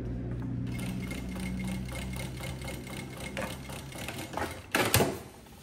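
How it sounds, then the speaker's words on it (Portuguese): A sewing machine stitches fabric in a steady, rapid mechanical rhythm that runs continuously, with a brief louder clunk near the end and no talking. "E aí venho e faço a costurinha toda."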